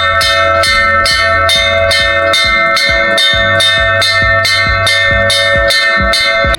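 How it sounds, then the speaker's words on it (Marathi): A temple bell at a hilltop fort is rung by a priest after sunset, loud and close, struck in a steady even rhythm of about a dozen ringing clangs with long overlapping resonance. "किल्ल्यावरती असणाऱ्या पुजारी बाबांनी केलेला हा घंटानाद"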